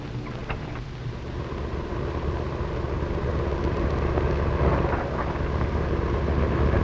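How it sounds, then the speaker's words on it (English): Continuous broadband engine drone of an autogyro flying toward a warehouse, loud and close throughout, swelling slightly toward the middle, with no voices over it. "It's an auto gyro and it's headed straight for the warehouse."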